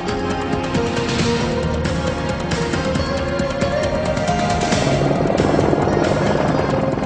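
An AH-64 Apache twin-engine attack helicopter in flight, its rotor and engine roar steady and loud for several seconds, swelling slightly near the end, with no talking.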